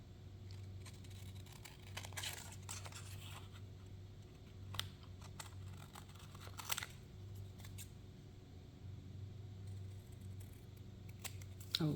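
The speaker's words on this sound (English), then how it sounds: "We're just going to cut around." Scissors cut around a vintage slide decoration in faint, scattered snips and soft paper rustles against a low background hum, quiet and close with no talking.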